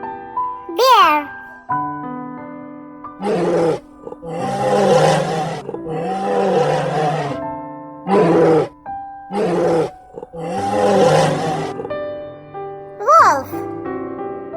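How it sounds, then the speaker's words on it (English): A bear's roar in a children's animal sounds sequence: several loud, drawn-out growling bursts separated by short pauses, set against a light musical backing. "Bear."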